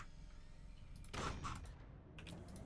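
A sniper shot goes off in the physics-based fort-building strategy game Forts during a 1v1 match, one sharp blast followed by a short rumbling tail and a few faint crackles.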